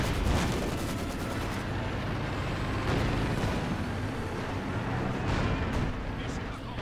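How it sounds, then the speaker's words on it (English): Artillery barrage in a Company of Heroes 2 match, a dense continuous rumble of shell impacts and bursts with sharper blasts near the start and around the third and fifth seconds, loud throughout. "There you go, another barrage going in."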